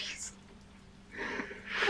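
One short sneeze bursts out near the start, with another breathy burst at the end, during a casual Resident Evil 3 gaming session with voices around it.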